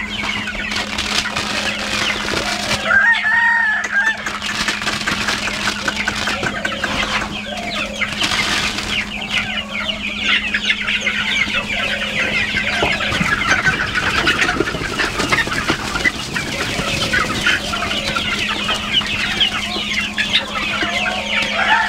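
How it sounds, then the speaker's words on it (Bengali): Golden chickens being fed on a farm raised with black soldier fly cluck continuously as a busy flock, with scattered calls over a steady hum of background noise. "উপরের এই যে ছোটো মুরগিগুলো রয়েছে সেই মুরগিগুলোকে খাওয়াচ্ছে"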